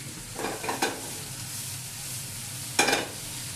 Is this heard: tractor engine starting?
no